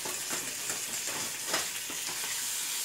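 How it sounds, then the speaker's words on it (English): Bacon fries in a pan for breakfast, a continuous close hiss and sizzle with small crackles running throughout. "This bacon fried up."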